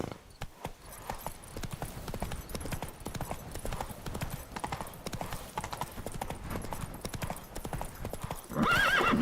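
A horse in The Witcher 3 gallops with a fast, continuous clip-clop of hooves, with brief whinnies and a louder burst near the end; a voice speaks briefly.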